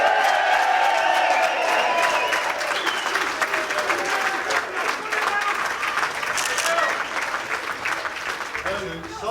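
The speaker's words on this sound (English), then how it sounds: "Round of applause." A crowd applauds at a car-show wedding ceremony right after the couple is pronounced man and wife, with a few cheers mixed into the dense clapping and voices faintly audible underneath.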